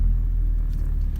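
Ford Focus RS rally car with a six-speed manual pulling away, a deep steady engine rumble heard close and loud with no talk.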